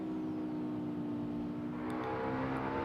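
Simulated race car engine in the Assetto Corsa driving game, a loud steady droning whine that holds a sustained pitch and rises slightly near the end, with no talking.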